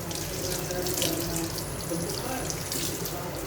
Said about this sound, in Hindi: इसको पानी से वॉश कर लेते हैं